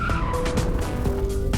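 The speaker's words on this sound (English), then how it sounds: "I distinctly recall hearing Danger make these tires squeal earlier." Goodyear Eagle F1 tires squealing on a 2021 Karma GS-6 grand touring car, a sustained high-pitched tire squeal with varying pitch over continuous engine and road roar, loud and close, with no talking.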